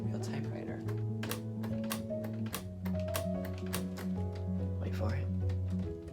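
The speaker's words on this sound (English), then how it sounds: "It sounds just like a real typewriter." LEGO typewriter model being typed on, irregular plastic clacks and thunks of keys striking in quick bursts, close up, with a person talking over the clicking.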